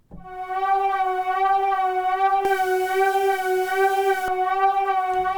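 A sustained buzzy synth tone through a band-pass filter, with a strong mid-range focus and gritty drive distortion, holding one steady pitch, with a brighter noisy layer switching in partway through.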